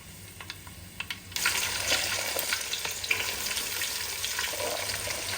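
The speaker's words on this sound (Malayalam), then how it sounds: "അടുത്തത് നമ്മൾ കടുക് ഇടുന്നു." Mustard seeds hit hot sesame oil for a mango carrot pickle, bursting into a loud, steady sizzle after a few faint pops; close and continuous, with no voices.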